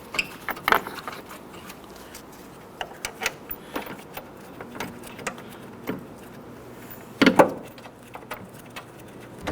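Hand ratchet starting mount bolts on a Hyundai Elantra during AC hose replacement, scattered light clicks and taps with a louder burst of clatter near the end, close up and fairly quiet, no talk.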